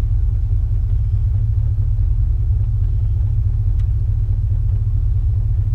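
A car engine rumbles steadily while being driven, a loud, deep, continuous drone with road noise that stays even from start to finish, heard from inside the car with no talk.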